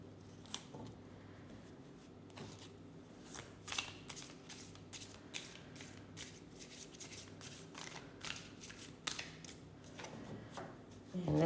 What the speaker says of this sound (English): let's end this shuffle and clear the deck